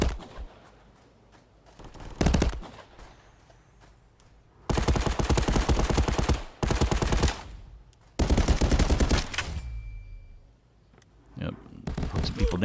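Bursts of automatic gunfire from a Contractors VR shooter game on Quest 2, several long rapid volleys plus short shots, loud and close, with spoken commentary during the quieter gaps.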